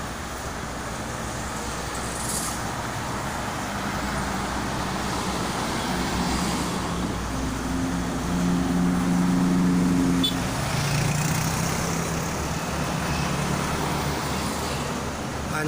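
Steady roadway traffic on the Jakarta-Cikampek toll road at km 54 near Karawang, a continuous broad roar of passing cars, buses and trucks with a heavier engine drone swelling midway, no talk.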